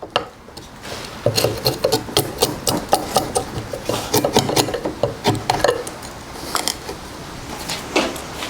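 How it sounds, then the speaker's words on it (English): A timber framing chisel paring waste from a wood joint down to knife lines, heard as a steady series of close, rasping scrapes and short chops with no talk. "now I'm just going to take my timber framing chisel and just clean out some of this waste down to the knife walls"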